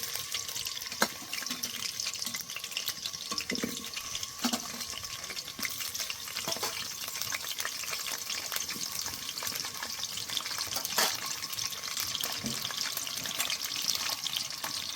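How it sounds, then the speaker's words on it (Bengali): Large-cut potato pieces frying in oil, giving a continuous soft sizzle and crackle throughout, with occasional faint clinks and stirring sounds. "এবার এগুলো তেলে ভেজে নেব"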